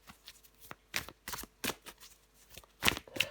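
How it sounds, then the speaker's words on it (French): Tarot cards are shuffled in a series of quick, crisp riffling bursts with brief pauses between them, close and fairly quiet. "je prends encore une carte pour vous, les balances"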